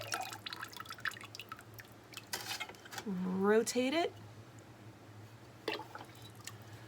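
Ceramic glaze is poured into a pottery piece before a cone 6 glaze kiln firing, making a short gurgling fill whose pitch climbs for about a second, set against quiet room hum while a person talks.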